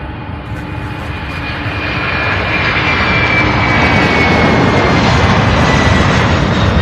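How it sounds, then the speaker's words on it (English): Airbus A300 jet airliner taking off at Louisville International Airport, a steady broadband engine roar that swells over the first few seconds and then holds loud and constant, with no voices. "First up, this Airbus A300."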